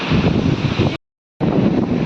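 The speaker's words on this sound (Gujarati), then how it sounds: "એનું કારણ છે કે પવન વધારે છે અને મોજાનો અવાજ છે" Strong wind buffets the microphone while ocean waves surge at the seashore during high tide in rainy weather, a loud continuous roar that cuts out briefly in the middle before resuming.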